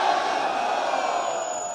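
Large rally crowd at a Pakistan Peoples Party election gathering in Bahawalpur, a dense continuous roar of many voices shouting and cheering together, loud and steady throughout.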